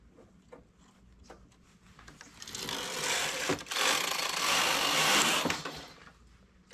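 Knitting machine carriage pulled across to run the starting yarn for a knitted headband, a rising mechanical whirring rush that swells loud mid-clip over faint clicks, then eases off; no talk.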